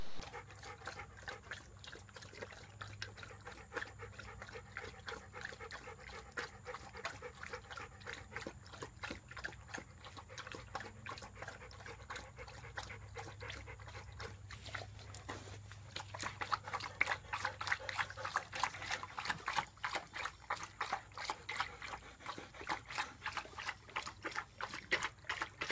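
Two dogs, Scoop and Tucker, lap water from a bowl, a quick run of rhythmic wet slurps that grows faster and louder partway through, close by and with no voices.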